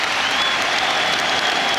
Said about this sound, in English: first to be applauded off to the rafters